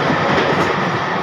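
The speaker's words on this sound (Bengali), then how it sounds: "105-10 স্পিডে যাচ্ছে গাড়ি।" A fast passenger train on an Indian line between Kharagpur and Katpadi runs at about 105 to 110 speed, filling the space with a loud, dense, steady rumble and rattle of wheels on rails.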